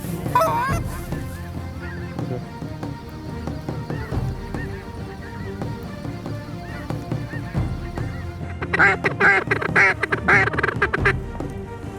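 Geese honk and ducks quack repeatedly at a distance over a pea field in Alberta, the calls growing denser and louder toward the end.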